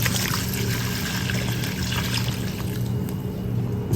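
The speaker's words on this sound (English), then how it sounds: "Then we're gonna add some water." Water poured into a bowl of djon djon black mushrooms, a steady trickling stream running for several seconds, fairly close and alone without talk.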